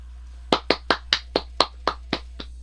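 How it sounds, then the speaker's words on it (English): Fans clapping at a press conference as Corey Crichton walks out: about nine separate, sharp hand claps in a steady, moderately spaced rhythm, fairly close, with a low steady hum underneath and no talking. "you hear the fans clapping here"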